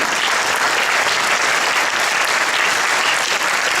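An audience at an inter-school drama competition awards night applauds, with dense, steady clapping filling the whole stretch evenly and close, with no voices over it.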